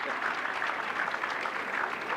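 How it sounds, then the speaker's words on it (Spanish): An audience at a law lecture claps steadily throughout, a brief dense burst of applause heard at moderate distance, with no talk. "todavía ni pedimos el aplauso, ya aplaude"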